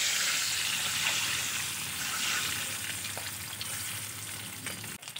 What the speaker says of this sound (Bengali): ডিমগুলো নাড়াচাড়া করে ভালো করে লাল করে ভেজে নেব।